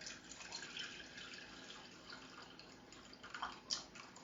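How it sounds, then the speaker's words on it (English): Water pours from a container into a cooking pot on a stovetop, a steady soft splashing stream that swells and trickles near the end, fairly faint and close. "And then I'm going to pour water, which I have somewhere."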